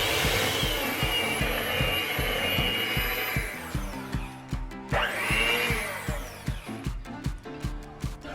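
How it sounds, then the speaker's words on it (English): Pancake batter mixed with vegetable oil in a bowl, heard as rhythmic whisking strokes that knock steadily against the bowl, a dense continuous stretch at first, then slower and more spaced beats, close and fairly loud with no speech. "now I gotta mix that together"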